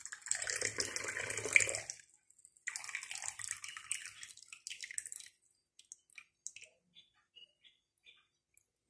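Water running and splashing while Moroccan mint green tea is made, a close pouring rush that stops, resumes briefly, then trails off into scattered drips and quiet.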